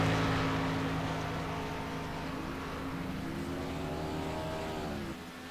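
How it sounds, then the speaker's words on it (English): Stock cars roar around Talladega in a racing video game, a loud sustained engine drone with rising and falling whines as cars pass, fading slightly near the end. "these cars are loud here at Talladega"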